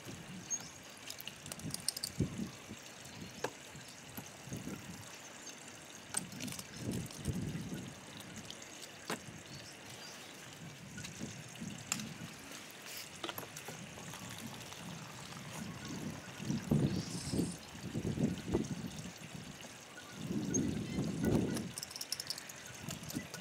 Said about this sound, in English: And then I will empty, rinse out and refill the water bottles.